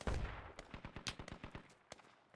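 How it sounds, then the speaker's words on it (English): Sniper and rifle fire in the video game Squad: a rapid series of sharp cracking shots, a dozen or so close-spaced reports in quick rhythm, fairly faint and distant-sounding. "There's a guy sniping at us."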